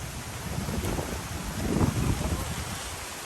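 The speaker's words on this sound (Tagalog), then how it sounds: "Lakas ng hangin" A strong, cold gust ahead of an approaching storm, roaring steadily into the microphone and swelling briefly midway, with faint voices underneath.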